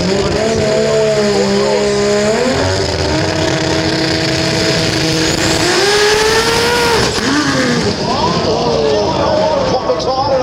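Drag racing car launching at Willowbank Raceway in Queensland, a loud continuous engine roar with rising and falling revs and harsh broadband noise throughout, heard close and sustained for about ten seconds.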